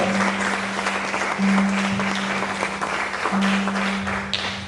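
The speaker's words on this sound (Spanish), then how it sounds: "Un aplauso a la palabra de Dios" A church congregation applauds steadily, a dense wash of clapping held at an even level throughout, with a low sustained hum running underneath.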